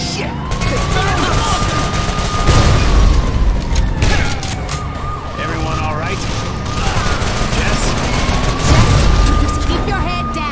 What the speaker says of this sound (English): Turn off that fucking siren.